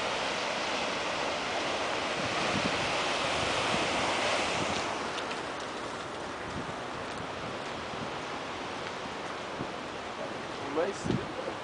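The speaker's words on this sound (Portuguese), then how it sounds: "O jeito que tá assim, agitado o mar." Rough, agitated sea surf roars steadily along a shoreline, with heavy wind buffeting the microphone throughout and a few brief bumps near the end.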